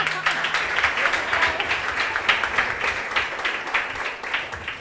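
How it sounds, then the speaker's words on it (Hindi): Church congregation clapping steadily during a pastor's sermon, a dense even patter of hands that stays fairly loud throughout, with some voices mixed in. "तालियां बजाना है तो जोर से बजाओ।"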